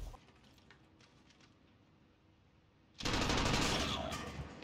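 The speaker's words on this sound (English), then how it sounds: "I don't even know where I'm getting shot from" Gunfire in a Call of Duty: Modern Warfare gunfight match, with faint distant shots giving way to a loud, close burst of rapid automatic fire.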